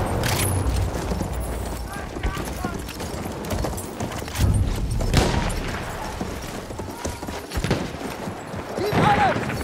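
Cavalry horse hooves gallop in the World War I shooter Battlefield 1, a steady clip-clop drumming under shouted voices, with scattered gunfire and bangs around the charge.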